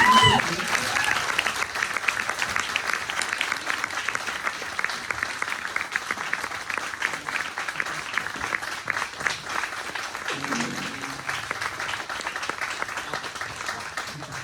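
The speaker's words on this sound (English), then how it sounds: "can we give a round of applause to my dad for 50 years in business?" A crowd applauds at a celebration marking a father's 50 years in business with a signs company, sustained clapping from many hands lasting over ten seconds, steady and moderately loud, slowly thinning toward the end.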